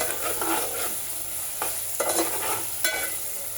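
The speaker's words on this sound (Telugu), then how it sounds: "కొంచెం అల్లం వెల్లుల్లిపాయ పేస్ట్ వేసుకొని బాగా అయితే కలిపేసుకున్నామండి" A spoon stirs marinated chicken with ginger garlic paste in a hot pan, giving a soft sizzle under repeated scraping strokes, close and steady, with no voices.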